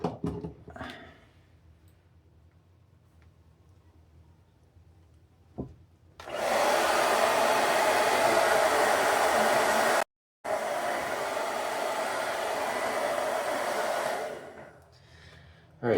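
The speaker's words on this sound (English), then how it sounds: "I basically just dry my face with a blow dryer" A hair dryer switches on with a steady, loud whooshing roar, cuts out briefly, resumes for several seconds, then shuts off.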